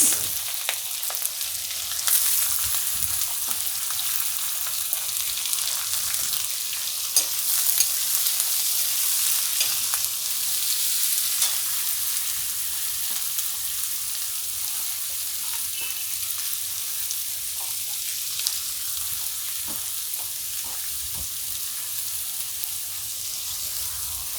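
Chillies and onions frying in oil in a pan for egg curry, a steady bright sizzle that runs unbroken throughout, with occasional faint clicks and stirring knocks, close and fairly loud.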